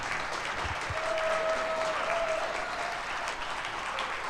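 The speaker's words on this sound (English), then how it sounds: "can we have a round of applause for Josiah?" A studio audience at a live Packers clubhouse show applauds tight end Josiah Deguara, an even, sustained crackle of many hands clapping at moderate volume, with no talk over it.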